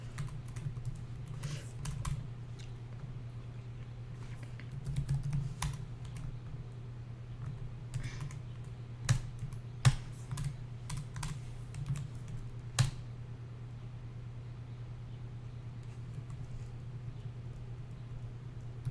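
Scattered keystrokes on a computer keyboard while logging into GitHub, irregular clicks with a few sharper taps, over a steady low electrical hum and no talk.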